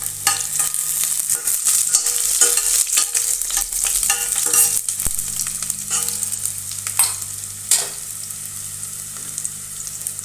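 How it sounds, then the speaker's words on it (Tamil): Crushed garlic fries in hot oil, giving a loud, continuous, close crackling sizzle with occasional stirring scrapes and a faint low hum beneath. No one speaks. "எண்ணெய் விட்டாச்சு. இப்போ பூண்டு முதல்ல போட்டுக்கலாம்."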